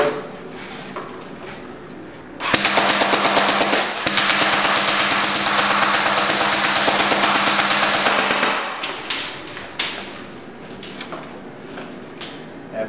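A G&G FN Herstal SCAR automatic airsoft rifle fires a sustained full-auto burst of about six seconds, a loud, rapid mechanical chatter up close, bracketed by handling clicks and clacks.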